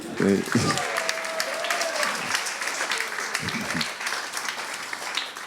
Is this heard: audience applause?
yes